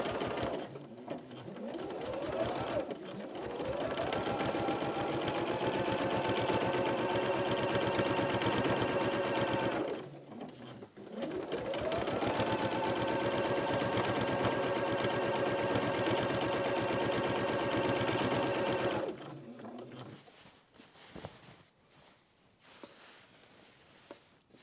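A sewing machine with a walking foot stitches across a quilt in two long, steady runs of rapid needle chatter, close and loud, each winding up and stopping, followed by quieter handling noises.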